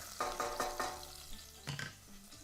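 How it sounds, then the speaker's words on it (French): Green onion and chili sizzling in hot oil in a pan, with a few distinct stirring clatters early on and a steady frying hiss underneath, heard close and fairly quiet. "l'oignon vert avec le chili, puis l'oignon vert, juste pour bien les réveiller, les faire frire"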